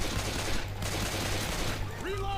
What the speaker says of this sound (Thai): ผมนี่ยิงรัว ๆข้างล่างมันปีนขึ้นมา